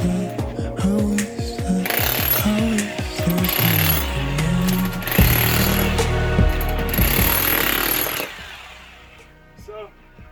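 A 1000W electric demolition jackhammer from XtremepowerUS/Stark pounds rapidly in loud bursts with sharp rattling hits, then stops and leaves a quieter tail.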